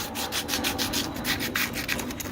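Steel car wheel rim being sanded by hand, steady rasping strokes in a fast even rhythm, close up with no voices.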